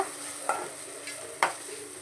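Soft sizzling of coconut and ginger roasting in a pan with a few scraping stirs of a spatula, punctuated by two or three sharper clinks against the pan.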